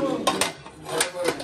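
An old cooking pot is handled, giving several sharp metallic knocks and clanks in quick succession, close by, with faint background noise.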